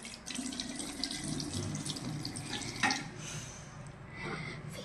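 Tap water runs steadily into a sink during face washing, a continuous splashing stream with a brief louder splash partway through and no talking.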